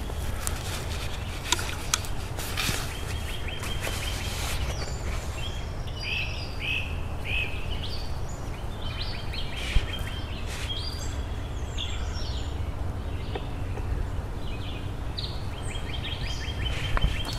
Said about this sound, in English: The beautiful bird singing